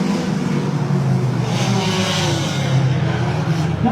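Hornet class race cars roar around the track in a heat race, engines droning loudly and steadily throughout, with layered motors revving as the pack runs close together.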